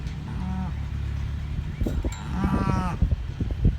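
Cows mooing loudly at close range during hay-bale feeding of cattle, with two long drawn-out calls and clunking, rustling farm noise in between.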